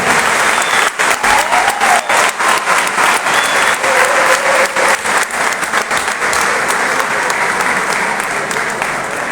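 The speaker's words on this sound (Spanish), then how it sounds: "les pedimos un fuerte aplauso para dar inicio a este acto de política obrera." Strong, dense applause fills a hall at a Política Obrera workers' political rally, steady and loud from start to finish with a slight fade near the end.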